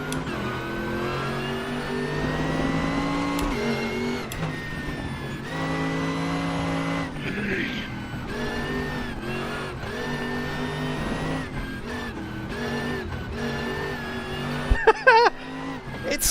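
McLaren-Mercedes SLR 722 GT at Suzuka in RaceRoom, engine revving and dropping in repeated surges with gear changes while sliding sideways, loud and close, ending with a few sharp clicks.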